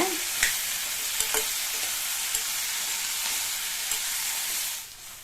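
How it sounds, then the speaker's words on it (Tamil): Eggplant sautéing in oil over a high flame, a bright, dense sizzle up close with intermittent spatula clicks, easing off near the end, no speech. "இப்போ இதை ஹை ஃப்ளேம்லேயே வச்சு 2 நிமிஷத்துக்கு நல்லா இந்த எண்ணெயிலேயே வதக்கிக்கோங்க"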